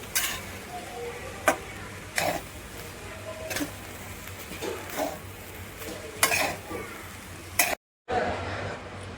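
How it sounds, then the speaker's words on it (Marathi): Fried cauliflower is tossed into vegetable fried rice with a ladle in a pan, making a low, steady sizzle broken by sharp metallic scrapes and clanks at irregular intervals, followed by a brief silence near the end. "फ्राय केलेली फुलगोबी घालूया"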